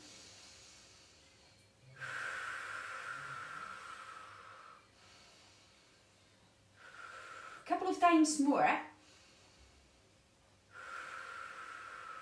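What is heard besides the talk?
deep breathing during a seated Pilates exercise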